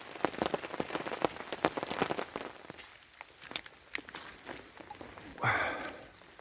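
Rain drumming on a tent during a group camp in the woods, irregular close patters and drips of varying loudness, swelling into a heavier burst near the end, with no talking.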